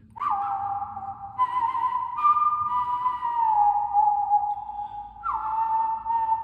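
Whistled imitation of the death wolf whistle from Puss in Boots 2, a clear, piercing tone held for several seconds with slight pitch wavering and stepped jumps, performed alone without talk.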